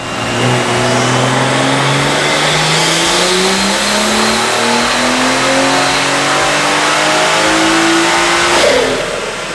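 BMW B58 engine on a dyno, revving hard in one long sweeping pull that climbs steadily in pitch, loud and close, then cutting off near the end.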